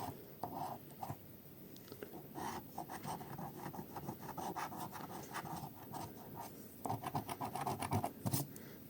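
A scratch-off lottery ticket is scratched close up in quick, repeated rasping strokes. Coins or nails scrape in uneven bursts over the whole stretch, with no talk.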